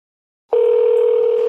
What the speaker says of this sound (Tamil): ஃபோன் போகுதா இல்லையா? போகுது